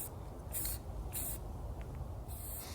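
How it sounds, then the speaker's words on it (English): Spray finish applied to a wooden CNC-carved sign in three short aerosol bursts, close and fairly quiet, each a brief hiss with pauses between. "I'm going to spray the front and the back at the same time and hang it up"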